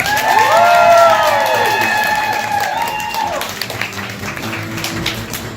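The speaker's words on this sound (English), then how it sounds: "Give her a warm round of applause for Corey Robinson." An audience at a college improv comedy show applauds and cheers as a performer is introduced, with a drawn-out voice at first, then a lively spread of clapping.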